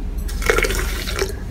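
Coconut milk is poured over barnyard millet rice to soak it, a loud, close liquid pour that gurgles and splashes for about a second before trailing off.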